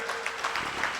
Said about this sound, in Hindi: इनके लिए जोरदार ताली लगाएं